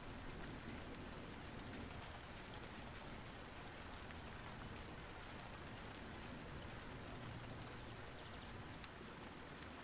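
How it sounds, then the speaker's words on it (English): Heavy rain pours down in a steady, dense hiss of drops striking surfaces, unbroken and even throughout, with no voices. "The rain has become heavier."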